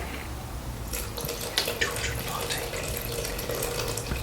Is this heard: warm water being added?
yes